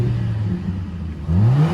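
A Mercedes-AMG CLA45S in Sport Plus mode with its sports exhaust open revs up close by, a steady growling idle rising into a swelling vroom toward the end.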